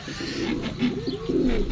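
Domestic native pigeons kept at home coo in a low, rolling murmur, several soft overlapping calls that swell and fade steadily through the moment, close by with no talking.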